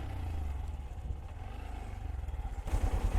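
A Honda Monkey 125 motorcycle engine drones steadily and then labors harder climbing a hill near the end with a rough, pulsing throb, no talking.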